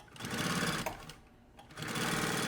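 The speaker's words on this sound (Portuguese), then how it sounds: "eu vou fazer a costura em cima da mesma costurinha que eu fiz antes aqui" A sewing machine runs close and loud, stitching a seam on a puffer backpack with a steady mechanical whir that dips briefly in the middle before picking up again.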